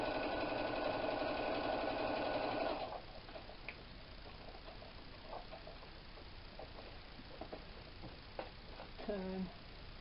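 A home sewing machine sews a cotton tote along its stitching line at a 2.5 stitch length. It runs loud and steady for about three seconds, then stops, leaving quieter handling sounds and a short turn.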